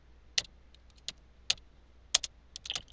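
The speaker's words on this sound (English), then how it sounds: "I'm using my tab key on my keypad to move around in these fields." Sparse, separate keystrokes tap on a computer keyboard, including presses of the tab key, about five to seven crisp close clicks over a quiet background.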